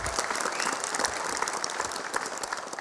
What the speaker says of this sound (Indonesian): Tepuk tangan dulu buat Bapak Sutioso.